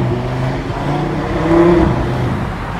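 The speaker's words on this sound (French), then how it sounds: "ça fait le bruit d'une petite Lamborghini Gallardo" A sports car engine in sequential mode revs with a steady, throaty drone that swells briefly in the middle, heard up close with no voices.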